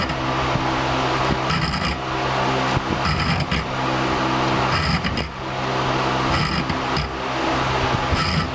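Powered cutting tool cutting a Spanish notch into a homemade knife blade, giving a loud, continuous grinding whine close up, broken by brief rhythmic pulses as the tool bears on the steel.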